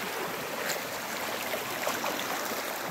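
The overflowing Cariús River rushes toward the Orós reservoir, a dense, steady roar of flowing water close by with no voices.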